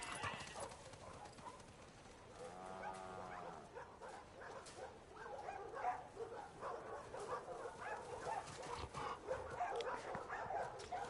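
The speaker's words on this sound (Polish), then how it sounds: "widzę, że moglibyśmy się przez tym pieskiem pobawić" A dog whimpers and barks in The Last of Us Part II Remastered, with a short whining cry among softer yips and clattering steps over a steady game ambience.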